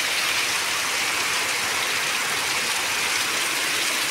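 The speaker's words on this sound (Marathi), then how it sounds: "ते पाऊस बघा कसला पडाला आहे" Heavy rain pours steadily on a residential lane, a dense, even hiss of drops that stays constant and fairly loud throughout, with no voices or other sounds breaking through.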